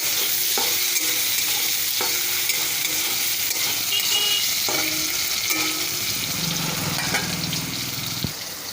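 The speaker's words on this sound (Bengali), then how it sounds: "এবার এই আলুটাকে একটু ওই মাশরুমের তেলেই ভেজে নিলাম।" Potatoes fry in oil left over from cooking mushrooms, giving a steady loud sizzle with scraping stir strokes and occasional clinks of the utensil against the pan, no voices.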